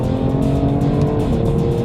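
A loud BMW M2 CS sports car engine roars steadily at high revs in second gear, a sustained strained drone suggesting wheelspin under hard acceleration.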